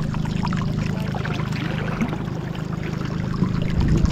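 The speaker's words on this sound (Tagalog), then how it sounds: "Lakas ng agos." Strong river current rushes and gurgles around a boat in a continuous, close, fairly loud wash of flowing water, with no talk.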